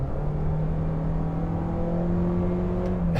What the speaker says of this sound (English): Now the engine is a bit droney, especially under full load.